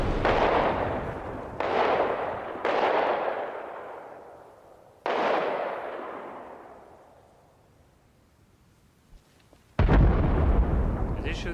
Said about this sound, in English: Shooting at me? I swear to God, if he's shooting at me, I'm gonna shoot back.